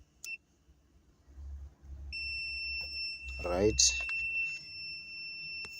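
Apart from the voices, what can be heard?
multimeter continuity beep while testing a defrost heater fuse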